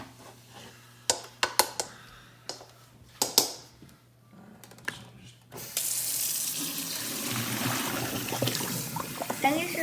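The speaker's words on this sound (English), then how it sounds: "so we're gonna get rid of this water because we don't need it" Water from a cooking pot poured out into a kitchen sink while making lettuce wraps, a steady rushing gush after a few sharp knocks and clatters, with brief talk near the start.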